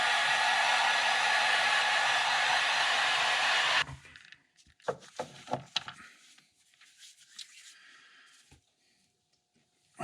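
A heat gun blows a loud, steady roar while heat-setting paint on fishing lures, then cuts off abruptly, leaving scattered clicks, handling noises and faint breathing.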